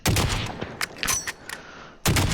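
Bursts of automatic gunfire from the battle royale game Warzone, loud and close, with a heavy volley at the start, scattered single cracks in the middle and another dense burst at the end.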